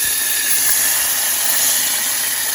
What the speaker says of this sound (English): you're going to go ahead and throw the water in there